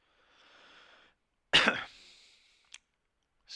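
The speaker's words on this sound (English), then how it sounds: "Got a little bit of a cough today" A single loud, harsh cough bursts out and trails off, followed moments later by a short throat-clearing catch and another small cough onset, with a faint hiss beforehand.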